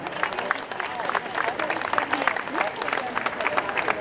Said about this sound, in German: Bitte einen Applaus für Helga